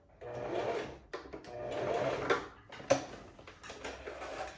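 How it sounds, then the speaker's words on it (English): A sewing machine top stitches a seam on a summer dress, running in close, uneven bursts with short pauses and a few sharp clicks, no talk. "you'll do a top stitch as close as you can to this seam line right here"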